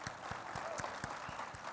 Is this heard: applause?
yes